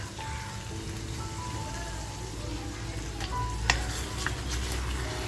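Prawns with garlic and spinach sizzle in a pan on a low flame, a steady close crackling hiss with occasional small pops and clicks throughout.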